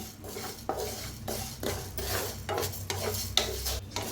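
Urad dal seeds dry-roasting in a pan, with repeated scraping stirs and light rattling of the seeds against the metal, close and steady in an irregular rhythm, no talking.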